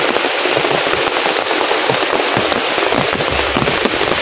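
Heavy rain pours beside a fast-flowing river lined with trees, a dense, loud, unbroken hiss close by with no voices.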